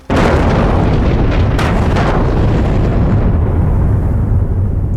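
A mine-pit blast goes off at full force after a brief quiet start, a broad rumbling roar with a few sharp cracks that holds loud and steady for several seconds, distant and heavy.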